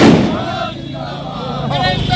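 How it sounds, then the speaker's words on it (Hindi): Fireworks crackle and boom at a street celebration of an election victory, loud bursts over crowd noise and traffic rumble. "दिल्ली जीत के जश्न में डूबा शाहगंज, जमकर की आतिशबाजी"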